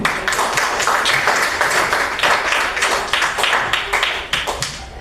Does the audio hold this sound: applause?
yes